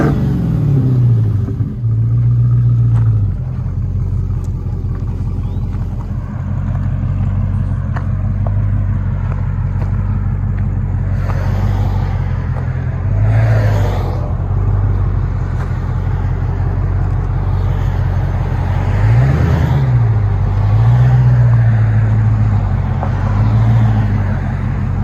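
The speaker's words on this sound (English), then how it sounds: "Hellcat Charger. Love it." A Dodge Charger Hellcat rumbles loudly through its exhaust tips at a deep idle, rising in several short revving bursts spaced through the stretch.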